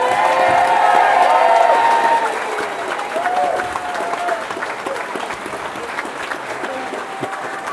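A crowd at a political party launch in Newcastle breaks into applause with cheers and whoops, loudest at first, then settling into steady clapping that carries on to the end.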